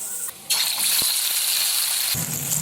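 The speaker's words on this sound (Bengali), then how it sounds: "পনিরগুলো ভেজে নেব, তেল দিয়ে দিয়েছি কড়াইতে।" Paneer frying in oil in a kadai: a steady, bright sizzle bursts in after a brief quiet moment and holds close and even to the end, with a couple of faint clicks.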